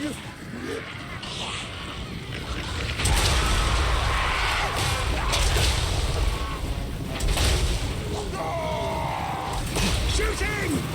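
Massed troops fire in a Warhammer 3 battle, a dense rumbling din of shots and booms under a constant wash of battlefield noise, with voices calling out over it.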